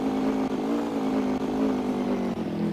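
A Honda ATV engine idles steadily up close on a dirt driveway site, holding a constant low drone with slight dips and no voices over it.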